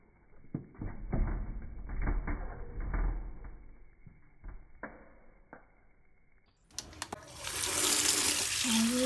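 Fresh mushrooms being washed under running water in a kitchen, soft splashing and handling noises before a tap opens and a steady loud gush of water takes over near the end.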